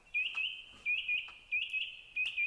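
Birds chirp and sing in short repeated bursts, several close together, bright and clear against quiet surroundings.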